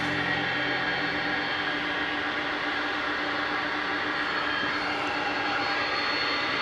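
Big MD jet airliner at Dallas-Fort Worth International Airport at night, a steady broadband engine roar and whine heard from a moderate distance, continuous and even with no talk.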